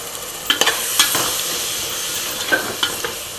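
A spoon stirs paneer with biryani and chicken masala in a sizzling pan: a constant frying hiss with several scraping strokes up close, some in quick pairs, and no talking.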